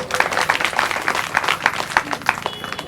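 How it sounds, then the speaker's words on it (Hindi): Audience applause at a Hindu religious discourse on the Shrimad Bhagavat Mahapuran katha in a village, a dense crowd clapping steadily throughout with many overlapping hand claps, fairly loud and close. "बताइए ताली जोरदार"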